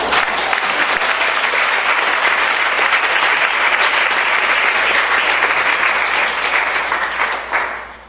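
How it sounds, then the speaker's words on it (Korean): A church congregation at a Korean thanksgiving service for a pastor's doctorate breaks into loud, dense applause that holds steady and then fades out near the end. "우리 박수를 드립니다"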